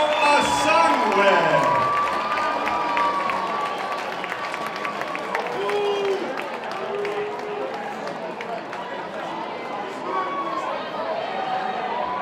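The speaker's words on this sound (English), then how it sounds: "How about a nice round of applause also for Tefo Asangwe." A crowd applauds and cheers steadily throughout, with a voice talking over the clapping.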